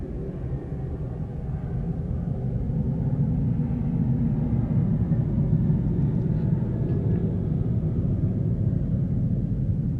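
Steady low rumble of an airplane passing overhead, broad and continuous for the whole stretch, swelling slightly after the first second and holding at an even level, with no voices.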